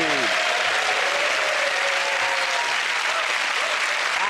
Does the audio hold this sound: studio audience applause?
yes